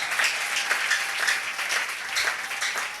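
A church congregation applauds its leader, a dense, steady burst of clapping from many hands, fairly close and without pause for about three seconds.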